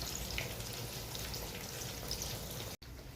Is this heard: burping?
no